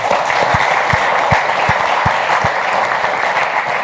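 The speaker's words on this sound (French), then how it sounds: "c'est ce que je voulais qu'on applaudisse très fort" A crowd at a café-style cultural show applauds loudly, a thick close wash of clapping with a few sharper individual claps standing out, holding at a steady level throughout.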